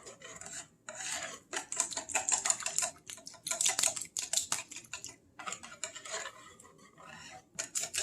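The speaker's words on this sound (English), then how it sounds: "give it some stirs" Syrup being stirred into a keto bread pudding mixture, a spoon scraping and rasping against the bowl in quick irregular strokes, close and fairly quiet, with short pauses between bursts.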